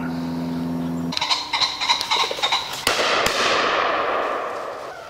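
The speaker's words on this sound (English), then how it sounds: "Been a few shots already." Sharp shotgun reports crack out at a woodland pheasant shooting drive, a quick ragged cluster of bangs followed by louder blasts that ring and fade into the trees.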